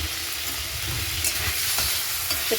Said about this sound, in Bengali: একটু কষিয়ে নিচ্ছি সব তরকারিটা